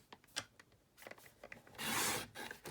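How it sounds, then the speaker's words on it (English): A paper trimmer slices a sheet of cardstock in half, giving a quiet scraping rasp that swells into a louder sustained swish of the blade, with small taps and rubs from handling before it. "grab your paper trimmer and take your cardstock, put it portrait, and cut it in half at 4 1/4 inches"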